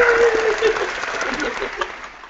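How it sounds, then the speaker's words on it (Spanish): An audience applauds at a community talk event, a short burst of scattered clapping that fades slightly, with a faint steady tone underneath. "vamos a darle un aplauso"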